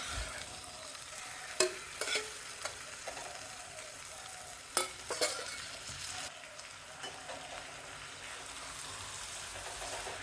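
Marinated prawns sizzle in hot masala in a pan, with steady frying crackle and a few louder scraping stirs and clinks of a spoon, close by and with no talking.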